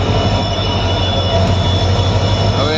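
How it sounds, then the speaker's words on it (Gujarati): A passenger train running from Porbandar toward Rajkot passes close by with a loud, steady rumble of wheels and carriages and a thin metallic squeal throughout, with no voices. "આ પોરબંદર તરફથી આવેલી અને રાજકોટ તરફ જતી ટ્રેન"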